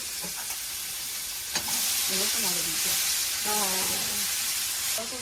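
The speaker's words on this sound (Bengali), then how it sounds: "পাঁচ ফোড়ন দিয়ে গোটা গরম মশলা শুকনো লঙ্কা ফোড়ন দিয়ে চিংড়ি মাছটা ভাজবো" Whole spices, panch phoron and dried chillies frying in hot oil before prawns go in, a steady broadband sizzle and hiss with stirring, while people talk over it.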